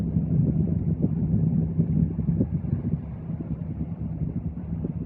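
Boat engines rumble and build in a low, steady drone, with wind buffeting the microphone.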